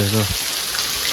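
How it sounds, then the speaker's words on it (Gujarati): Heavy monsoon rain falls in a village, a steady, close hiss that runs unbroken through the clip after a short spoken word at the start. "વરસાદ જો કેટલો પડે, જો બહુ ઝાઝો વરસાદ છે"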